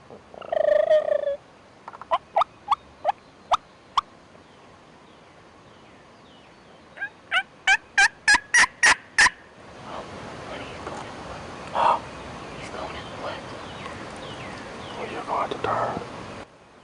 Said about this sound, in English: He is, however, putting on a nice display of strutting and gobbling.